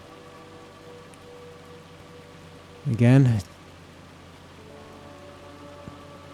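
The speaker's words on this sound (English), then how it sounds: "rain is coming down." Steady, soft rain falls in Farming Simulator 25 as a constant hiss through the whole stretch, with a brief burst of speech in the middle.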